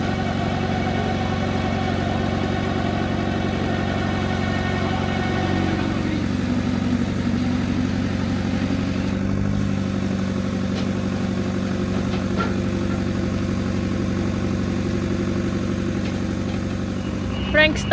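A truck's engine idles with a low steady rumble and then pulls away, the drone continuing under faint background activity with no clear speech.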